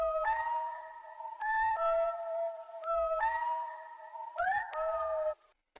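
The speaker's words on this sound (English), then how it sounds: "on top of that, I have this melody that I also found on Splice." A weird, out-there trap melody sample from Splice plays alone: a synth line of sustained, gliding tones in short phrases, with soft low thumps beneath and a brief tail of silence at the end.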